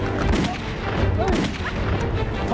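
Gunfire in a Thai TV drama set in a zombie village, rapid overlapping shots and booms packed densely throughout amid a busy, chaotic mix.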